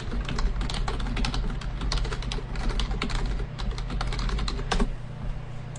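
Fingers type a file name on a computer keyboard, with quick irregular bursts of key clicks over a low steady hum, close and clear with no talking.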